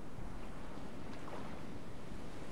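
Open ocean water in the survival game Stranded Deep, a steady dense wash of surf and wind, even and unbroken, with no distinct splashes.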